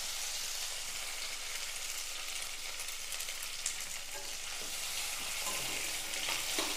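Tomatoes, coconut pieces and curry leaves sauté in a pan for a butter bean kurma, giving a steady, fairly quiet sizzle with light stirring scrapes throughout and no talking.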